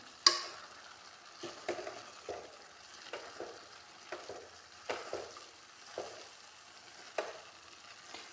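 A spoon scrapes around a pan of carrot halwa with raisins in steady repeated strokes, about a dozen of them, over a soft sizzle, with no one talking.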